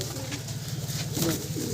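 Madrasi pigeons kept in a cage coo steadily in low, rolling throaty pulses, close and continuous over a noisy background.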